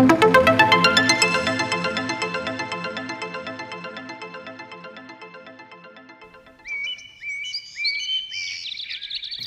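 A little bird chirps in a few quick, bright bursts near the end, following a long, fading run of rhythmic tinkling tones.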